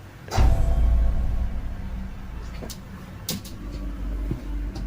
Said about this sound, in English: It sounds like her closet door though.